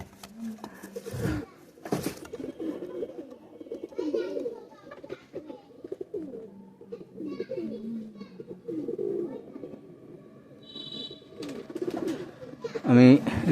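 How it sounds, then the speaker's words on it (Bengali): A male pigeon of Royal Teddy or hybrid breed coos softly in low repeated phrases, with bird sounds and occasional voices around it. "এটা নর কবুতর"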